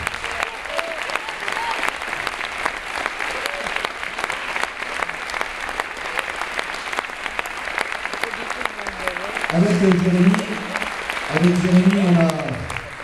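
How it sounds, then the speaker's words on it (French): Concert audience in Lille applauding the volunteers, sustained loud clapping from a packed hall while someone speaks over it in French, with a couple of short cheers rising near the end. "vous pouvez applaudir nos bénévoles qui sont là, vous pouvez applaudir très très fort"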